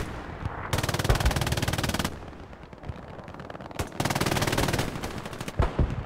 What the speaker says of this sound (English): FOC's artillery is hitting this little house where Tra was at.